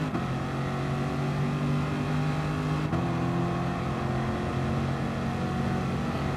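A race car in Gran Turismo Sport on the Sardegna Road Track accelerates out of a corner, its engine a steady, loud droning whine with a brief shift-like dip midway.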